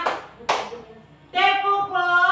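Two sharp hand claps ring out close and loud, one right after the other, in a children's clapping game, followed by a voice chanting.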